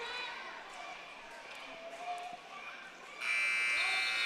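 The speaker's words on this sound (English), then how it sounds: "And there's the buzzer." After a stretch of muffled arena noise and talk at a high school wrestling match, a loud sustained electronic buzzer ending the period blares and continues to the end.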